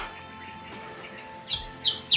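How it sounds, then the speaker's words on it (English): Birds chirp on a mountain top about 1,985 meters above sea level, a few short bright calls near the end over quiet, faint outdoor background, with no talk. "so you can hear the birds chirping"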